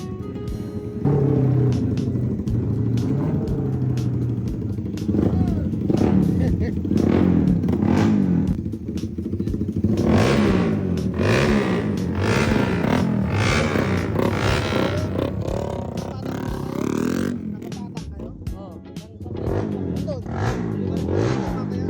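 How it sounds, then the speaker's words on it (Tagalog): Motorcycles rumble and rev at a racetrack during a track day as riders tune their bikes, engines droning loudly throughout with someone talking over them. "yung mga riders nga natatakbo nga dito sa may racetrack ay inaayos na nila yung kanilang mga motor."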